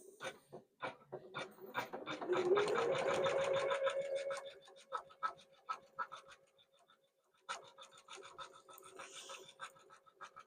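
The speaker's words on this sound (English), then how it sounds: "there are 4 flowers it needs to stitch out on this" An embroidery sewing machine stitches out flower designs on an in-the-hoop wall hanging. Its needle taps rapidly and steadily, rises into a denser whirring run, pauses briefly, then resumes its close, even rhythm. Nobody talks.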